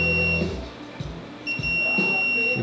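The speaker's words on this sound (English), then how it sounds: "Just gonna do a test to make sure that we have continuity on both sides." A multimeter beeps a steady high tone during a continuity test on a freshly soldered seatbelt bypass cable for a Polaris RZR XP 1000, sounding in two short bursts close to the microphone with light handling noise between.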